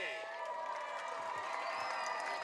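Crowd at a high school football game against Westwood cheering and applauding in a steady, dense wash of clapping and voices, with talk mixed in throughout.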